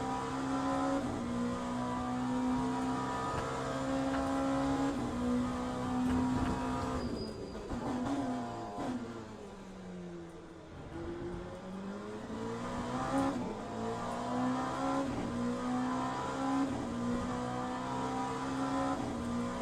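An LMP2 prototype race car in the racing game Le Mans Ultimate, its engine a loud continuous drone that revs up and down through gear changes, dipping mid-lap under braking before climbing again.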